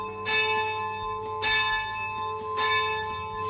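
A church bell rings three times at a steady, unhurried pace, each strike fading into a long sustained hum before the next.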